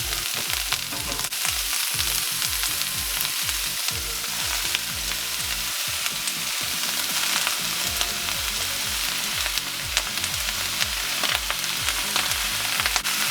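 Vegetables and rice noodles stir-fry in a hot pan with a continuous loud sizzle and repeated stirring scrapes, no voices.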